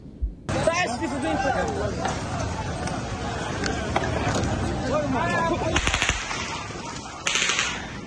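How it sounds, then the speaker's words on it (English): Rapid bursts of gunfire from Israeli forces crackle over a crowd gathered for food aid, with shouting voices and commotion throughout and a few louder volleys toward the end. "Israeli forces opened fire on people gathering to try to get food aid"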